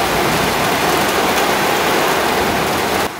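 Heavy rain pours down outside a van in a dense, loud, unbroken hiss that fills the space, then drops abruptly quieter near the end; no voices are heard.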